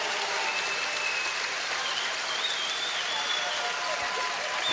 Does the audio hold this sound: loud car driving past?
no